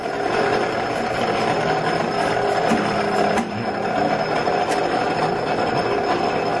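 A Wyson power beader runs with its gears engaged while feeding a metal piece, giving a continuous loud mechanical whir and hum with faint clicks and ticks throughout.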